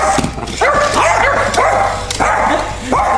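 Several dogs bark and yip at a Zoomer Chimp toy indoors, giving a rapid run of close, loud barks with whimpering tones in between.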